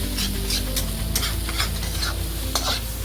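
Ground spices and Kashmiri red chilli sizzle steadily in oil in a pan for Punjabi Amritsari pindi chole, while a spoon stirs and scrapes through them in soft repeated strokes over a constant frying hiss.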